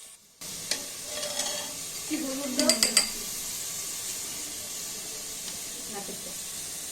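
Onions frying in a pan with whole garam masala (black cardamom, green cardamom, cinnamon, bay leaf) for spicy beef give a steady close sizzle, with a short run of spoon-on-pan stirring clicks midway.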